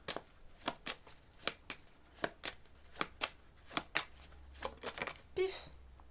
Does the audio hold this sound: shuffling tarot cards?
yes